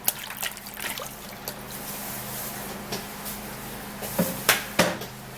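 Carrots are washed under running water, a soft trickle with splashes and a few sharp knocks and clatters toward the end, close by and fairly quiet.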